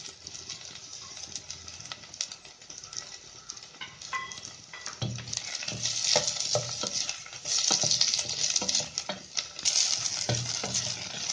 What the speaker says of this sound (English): you put 2 tablespoons of olive oil. Saute the onions.